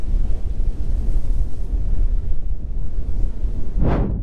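Ocean surf roars and churns against a natural rock bridge on the Antigua coast, with steady wind buffeting the microphone and a sharp splash bursting close at the very end.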